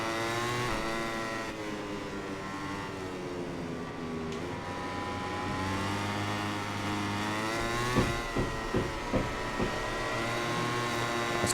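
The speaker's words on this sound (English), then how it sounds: "I'm going to just spin these tyres up now to the end." Engine noise from the MotoGP 21 video game: a motorcycle's engine revs steadily as its tyres spin up, a continuous high whine that climbs and holds, with a few sharp blips near the end.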